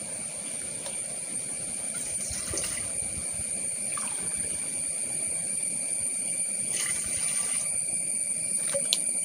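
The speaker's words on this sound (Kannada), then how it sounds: "2 ಲೋಟ ಆಗುವಷ್ಟು ನೀರನ್ನು ಹಾಕಿದ್ದೇನೆ." About two glasses of water pour into a pot set on a stove while fenugreek porridge is being made, giving a steady, even splashing hiss that runs unbroken and close by.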